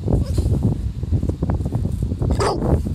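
A dog barking on command during an individual training walk, with a few dull, low barks close by amid rustling and handling noise, loud throughout the short stretch.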